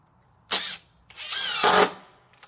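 A power drill drives a screw into a wooden deck railing spindle on a deck stair, two short close whirring bursts, the second longer and rising in pitch, with no talk.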